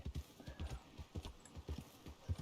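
Hooves of a horse in the video game Red Dead Redemption clip-clop in a steady walking rhythm, paired soft thuds repeating at moderate distance, fairly quiet.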